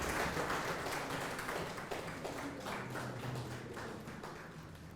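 Audience applause at an academic event on research and publication ethics, a steady patter of clapping that slowly fades, heard alone without talk.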